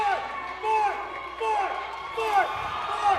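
Arena crowd at a stunt fight show cheering and whooping, loud and sustained in rising waves, with a commentator talking over it.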